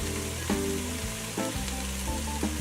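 Minced garlic going into a hot pan for red beans and rice, giving a steady close sizzle and crackle that carries through the short moment beneath a faint tonal background.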